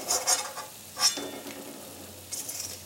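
Rolled pithe fry in hot oil, a light sizzle under intermittent scraping and clinks of a spatula against the pan, with a few quick bursts near the start and end.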